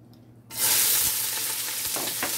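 Onions dropped into a hot pot for collard greens with smoked turkey legs hiss into a loud, steady sizzle that starts abruptly about half a second in and holds, with a few faint stirring knocks.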